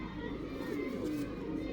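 Pigeons cooing softly in a loft, with low, rolling coos repeating under close, faint background chatter and occasional children's voices.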